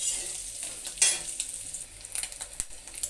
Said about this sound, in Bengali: মশমশা করে ভেজে নেব আমি।